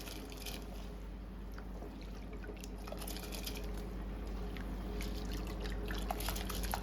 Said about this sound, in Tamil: தண்ணி பார்த்தீங்கன்னா நல்லா கொதிக்குது. இதில் அரிசியை போட்டுக்கலாம்.